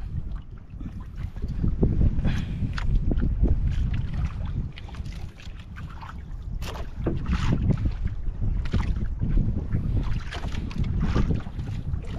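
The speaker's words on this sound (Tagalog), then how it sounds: "Malakas yung hangin nito mga idol." Strong wind buffets a fishing boat at sea, a steady roaring rush with gusting surges and water noise lasting throughout, close to the microphone with no voices.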